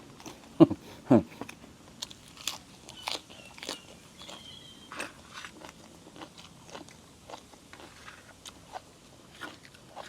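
Crunchy mushrooms in a curry being chewed close up, a couple of loud initial bites followed by steady, softer crunching and chewing.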